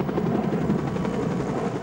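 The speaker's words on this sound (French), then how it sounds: "Ce sont les pompiers qui survolent la zone en hélicoptère." Firefighting helicopter flying over a wildfire zone, a loud, close, continuous rotor chop and turbine roar with no voices.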